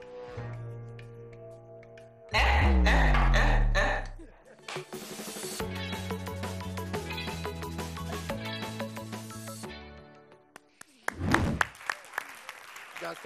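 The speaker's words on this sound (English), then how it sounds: "Someone clap for them, we'll clap for them." Audience applause at a live comedy stage show, a loud burst of clapping rising suddenly and tapering off over a couple of seconds, set amid music and a presenter talking.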